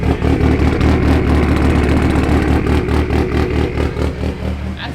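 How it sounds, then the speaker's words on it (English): A loud cammed car engine idles on a dyno with a choppy, lumpy rhythm, its deep rumble steady and close throughout. "That's a good chop. It got a cam in it."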